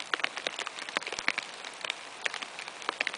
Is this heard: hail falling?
yes